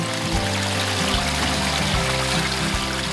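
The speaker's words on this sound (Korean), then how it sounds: "용추계곡에서 이어지는 맑은 물소리" Clear stream water flowing through Yongchu Valley in Korea, a steady broadband rush with a low tonal hum running underneath, constant and fairly close throughout.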